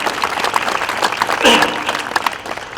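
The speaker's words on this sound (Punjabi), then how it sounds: "ਖੁੱਲ੍ਹ ਕੇ ਮਾਰ ਲਓ ਤਾੜੀਆਂ" Crowd applause breaks out during a political speech, dense steady clapping across the whole stretch, loud and close, with a voice talking over it.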